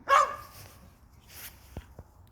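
A dog barks once loudly at the start, followed by a couple of fainter, sharper yips at a distance outdoors.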